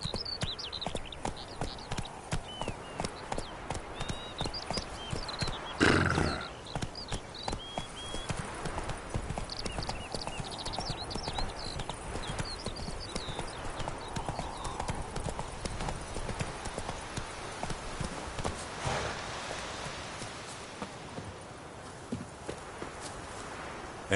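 The horse Roach in The Witcher 3 gives a rapid, steady clip-clop of hooves through the whole stretch, close and even, with brief game noises and a faint voice now and then.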